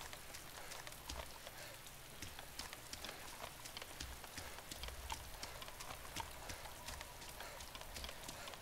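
Rain falls steadily in the ArmA 2 DayZ game world, a soft, even patter of drops hitting surfaces, faint and continuous with no talk.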